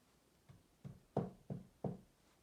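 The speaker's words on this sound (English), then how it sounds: "He tapped lightly on the door." Five light knocks land on a cottage door in a quiet room, the first two soft and the later three a little firmer, spaced roughly a third of a second apart.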